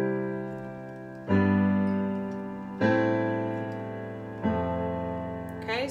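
Chord progression in C with a minor sixth chord, played as a sequence of sustained chords, each struck cleanly and left to ring and fade before the next arrives, with no talk over it.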